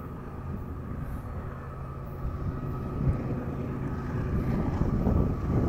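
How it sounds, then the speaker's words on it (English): Heavy, steady low rumble of a BNSF intermodal double-stack freight train rolling past nearby at Richmond Amtrak Station, a continuous roar that builds slightly toward the end, with no voices. "That's a BNSF Intermodal Stacker train."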